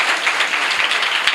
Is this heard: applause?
yes